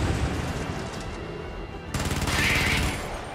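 A heavy airstrike lands in the video game Helldivers on PS4, a dense roar of rapid blasts and crackling fire that surges louder midway and rumbles on to the end.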